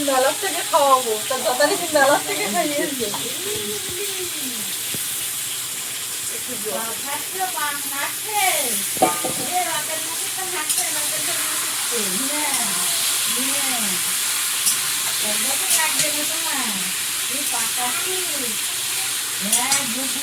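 Chopped onion frying in oil in a kadai, a steady sizzling hiss that runs beneath frequent talk from several voices.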